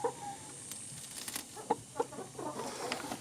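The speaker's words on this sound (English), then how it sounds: "There's the other chickies." Backyard chickens cluck softly in short, scattered calls at close range, with a couple of sharper clucks standing out against a quiet farmyard background; no one speaks.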